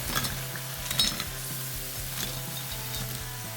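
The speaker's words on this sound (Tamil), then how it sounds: "இப்போ ஒன்று ஒன்றா போட்டு நம்ம பொரிச்சு எடுத்துடலாம்" Cauliflower pieces deep-frying in hot oil, giving a steady close sizzle and bubbling with faint clinks of utensils, and no voices.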